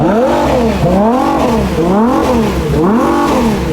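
A Ferrari Purosangue SUV engine revs repeatedly in rising and falling swells, three loud surges in a steady rhythm, close up with a droning exhaust note.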